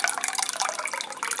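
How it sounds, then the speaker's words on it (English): Cold 2% milk is poured from a carton into a bowl for pudding, making a short continuous splashing, gurgling stream of liquid heard up close, with no talking. "So I'm going to pour it in"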